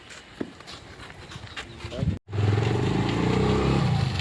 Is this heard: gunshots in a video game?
no